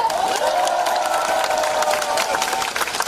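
A large crowd at a Moon Jae-in presidential campaign rally claps and cheers loudly and continuously, with a sustained whistling or horn-like tone running through the noise.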